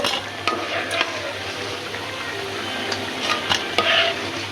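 Red lentil fritters sizzle steadily in oil in a pan while a utensil stirs and scrapes, with occasional sharp clinks against the metal.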